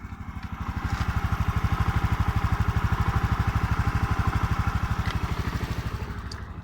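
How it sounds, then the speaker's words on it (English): Honda Fes 125cc scooter in good mechanical condition idling close by, a steady, even low-pitched putter with a regular rapid pulse and light mechanical clatter, alone without talk. "listen to the engine"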